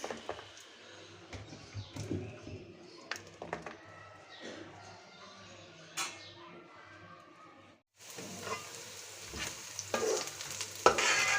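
Chopped onions and green chillies fry in oil with a continuous sizzle and repeated spatula stirring scrapes and taps. The sizzle jumps louder and fuller partway through, then stirring continues close by.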